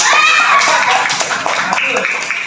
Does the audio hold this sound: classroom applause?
yes